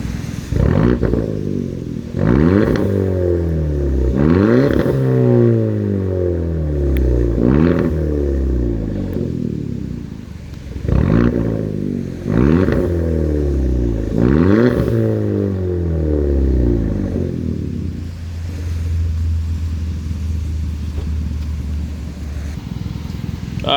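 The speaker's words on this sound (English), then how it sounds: "mine just has a muffler delete, resonator delete" A manual Hyundai Elantra Sport with muffler and resonator delete revs hard in repeated loud rising sweeps, several quick blips in clusters, then settles back to a steady low idle near the end.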